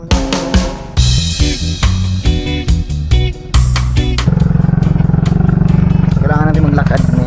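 Motorcycle engine on a mountain road in Manjuyod, revving in uneven bursts, then settling into a steady loud drone close by, with people talking over it.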